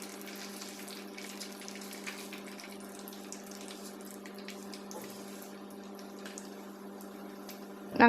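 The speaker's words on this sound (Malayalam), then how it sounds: "ഇത് നമുക്ക് ചൂടായ എണ്ണയിലേക്ക് ഇട്ട് കൊടുക്കാം." Cauliflower lollipops (gopi) frying in hot oil give a steady, moderate hiss and fine crackle, continuous and even throughout with a faint hum underneath, no voices.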